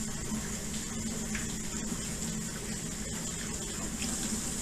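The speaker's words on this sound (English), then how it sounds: "Put a little cold water over it." Cold water runs from a kitchen tap over broccoli in a bowl, a steady even rush of flow lasting throughout, fairly quiet and with no talking.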